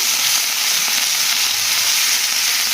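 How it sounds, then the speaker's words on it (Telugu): Steady loud sizzling and crackling of tempering spices frying in hot oil for sambar, continuous and close throughout. "ఇదిగోండి పోపు అయితే చాలా బాగా వేగింది చూస్తున్నారు కదా"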